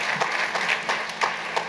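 Church congregation at an ushers anniversary service clapping hands together, a sparse irregular patter of individual claps at moderate level over a quiet room.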